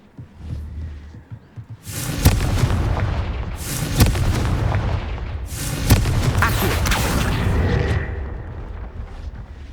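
Three heavy blasting-spell explosions from Hogwarts Legacy on PS5, each a sharp, loud boom followed by a rumbling, crackling tail, arriving roughly every two seconds after a quiet start.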